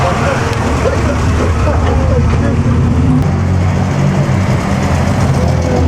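A Porsche drives past during the Mille Miglia road race amid loud, continuous engine rumble and crowd noise, with people talking over it.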